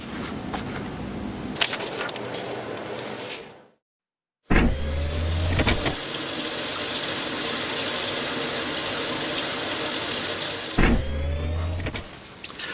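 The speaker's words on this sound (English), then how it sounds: "I'm going to use my new art room sink to get some water on my paper towel." Art room sink tap running water onto a paper towel, a steady rushing stream that starts, cuts out briefly, then flows again at an even level, ending with a squeak of the tap, no talking.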